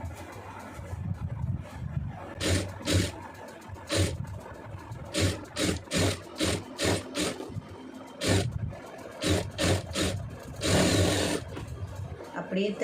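A sewing machine stitches a plain blouse in a run of short, rhythmic bursts with brief pauses between them, close and fairly loud, with some low background rumble.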